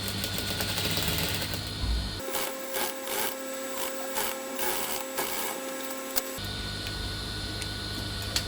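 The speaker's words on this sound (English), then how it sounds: "I fold this 1 inch in, then I sew it down." Sewing machine stitching down a folded one-inch hem on sego headwrap fabric, a close mechanical whirr running steadily for a few seconds between stretches of motor hum and handling noise.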